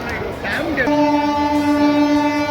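The Howrah–Haridwar Doon Express sits at platform 8, where someone speaks briefly before a loud, steady train horn sounds and holds for the rest of the moment.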